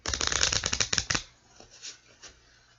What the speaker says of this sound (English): I am going to pull some clarification cards from the Lenormand Tarot deck